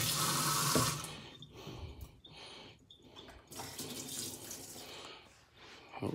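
Water pours steadily from the tap of a small sink in a newly opened hotel room, a close, hissing splash that swells and eases with a few brief pauses, no talking over it.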